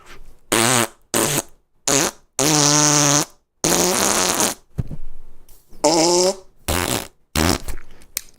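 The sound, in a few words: mouth-imitated fart sounds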